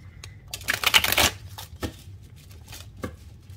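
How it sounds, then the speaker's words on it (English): A burst of brisk riffling as tarot cards are shuffled close up, followed by a few softer taps and shuffles. "So let me give it a good shuffle."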